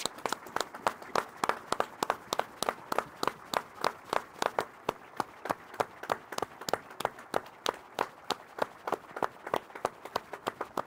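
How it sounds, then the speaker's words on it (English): A football crowd at a Runcorn Linnets versus Bootle match claps in a steady, evenly spaced rhythm after the referee's whistle, a fairly faint and distant patter that carries on throughout with no speech over it. "The applause will begin on the referee's whistle."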